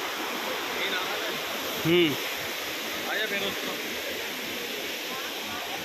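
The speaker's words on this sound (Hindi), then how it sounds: "यहाँ से पानी आ रहा है" River water below a viewpoint near Devprayag rushes as a steady, broad roar from a distance, with a brief voice speaking over it.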